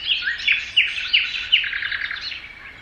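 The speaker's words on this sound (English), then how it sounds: "Birds." Birdsong played by a Renpho white noise machine: bright, repeated chirps and tweets in quick bursts over a faint steady hiss, fairly loud and alone.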